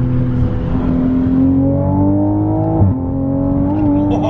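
Up close, a car engine in sport mode pulls hard and climbs in pitch through a gear change, then keeps building under a steady loud roar.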